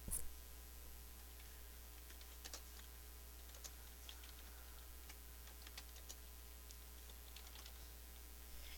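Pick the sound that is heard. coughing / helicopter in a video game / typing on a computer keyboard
typing on a computer keyboard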